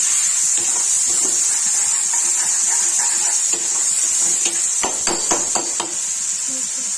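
Tomatoes, onion, garlic and ginger frying in a pan for a Kashmiri tomato and brinjal dish, a steady close hiss and sizzle with occasional clinks of a utensil against the pan.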